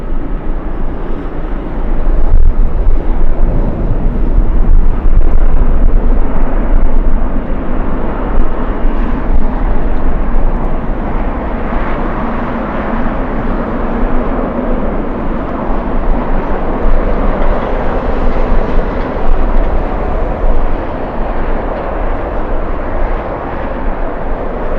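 United airliner arriving from San Jose at Los Angeles International Airport in strong winds, a loud, sustained jet roar that swells and then holds steady for about twenty seconds, mixed with heavy wind noise on the microphone.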